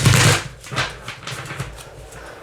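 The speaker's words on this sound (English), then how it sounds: "I'm going to go ahead and shuffle my cards again." Tarot cards are shuffled by hand close up: a quick riffle burst at the start, then a series of soft, papery slides and flicks in an uneven rhythm.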